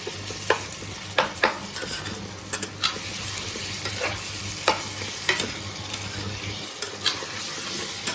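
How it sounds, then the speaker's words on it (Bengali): Potatoes fry in a pan with tomato, keeping up a constant sizzle. Sharp scraping clicks from a spoon stirring the mix break in at irregular intervals, with no talking. "আলুগুলো ভাজা হচ্ছে, ভাজার সাথে টমেটোটাও আর কি মিক্স হয়ে যাবে"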